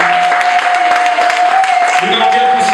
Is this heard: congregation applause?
yes